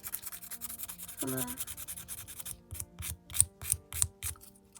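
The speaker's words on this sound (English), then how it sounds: "I'm going to buff the whole nail, the little bit of the rougher side" Rough side of a nail buffer scrubbed across a fingernail while preparing for pastel gel nails, heard as soft scratchy rubbing strokes, a steady rasp, then a few sharper separate swipes, with a brief spoken phrase near the start.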